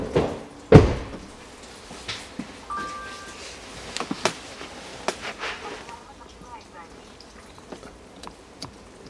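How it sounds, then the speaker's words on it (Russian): A Land Rover Discovery 4's door opens with one sharp, close thump near the start, followed by lighter clicks, knocks and handling rustles in a quiet space. "Дверь открою."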